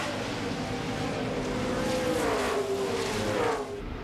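Dodge Intrepid stock cars in an ARCA race at Nashville Superspeedway roar continuously, a dense engine drone with a rising and falling pitch as cars run bumper to bumper, with faint commentary underneath.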